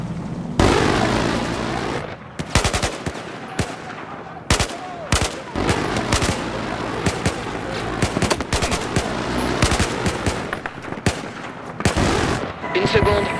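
Gunfire in the video game Battlefield 4, dense loud bursts of automatic fire and sharp single shots with heavier booms mixed in, continuing in uneven volleys throughout, with occasional voices.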